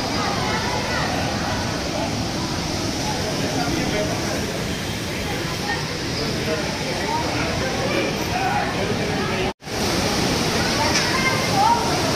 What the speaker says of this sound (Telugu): పైన ఫుల్గా వాటర్ పడుతుంది